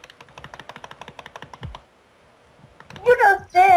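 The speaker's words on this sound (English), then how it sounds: "You know, Sam, I can hear the clicking" Keyboard keys and mouse buttons click in a rapid, steady patter during a Minecraft minigame on Mineplex. The clicking stops, and a voice follows near the end.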